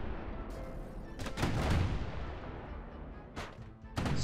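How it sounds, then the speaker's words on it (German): Enemies shooting each other in the video game Bastion, bursts of distant gunfire and booming hits rising and falling against a steady background din, with a few sharp louder blasts near the end. "Was jetzt nicht so wild ist, weil die sich alle gegenseitig über den Haufen schießen."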